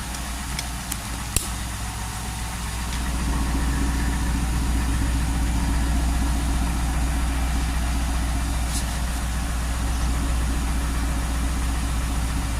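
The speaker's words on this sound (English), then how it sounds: "That's how the driver's side sounds." A car's exhaust idles steadily on the driver's side after a long period without starting, a low continuous rumble that holds close and even throughout, with a brief click near the start and no talking.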